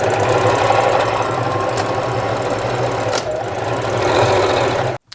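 Sewing machine stitching along the bottom edge of a framed bust cup with inserted boning: a loud, steady, close mechanical whirring rhythm that runs continuously before stopping abruptly at the end.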